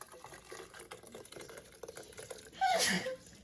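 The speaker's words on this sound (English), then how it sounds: "All right, I'm about to pour it into my Ninja." Tomato soup poured into a Ninja blender, a soft liquid splashing and glugging that rises into a brief louder gush near the end, with faint kitchen clatter beneath.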